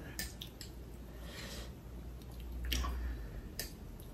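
Someone eating noodles with duck and fermented chili beancurd, soft close slurping and squishy chewing with a few faint clicks, quiet and alone.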